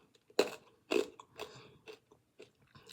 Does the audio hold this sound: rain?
no